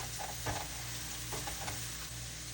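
Garlic sizzles in a hot pan for sautéing monggo with spinach, a steady frying crackle broken by a few scraping stirs, close and alone with no talking.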